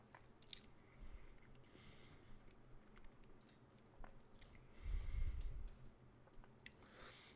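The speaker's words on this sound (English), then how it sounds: "so you might hear me chewing." Someone chews food close to the microphone, a run of soft, moist crunching and biting sounds with one louder bite midway, quiet and without talk.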